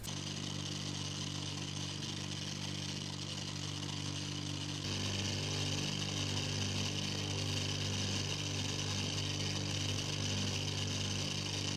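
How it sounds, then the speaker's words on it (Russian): Angle grinder spinning a felt polishing wheel with 3M polishing paste on an epoxy resin and driftwood ring, a steady loud motor whine that shifts pitch slightly partway through as the wheel meets the work. "Буду это делать с помощью болгарки, войлочного круга и полировочной пасты 3M."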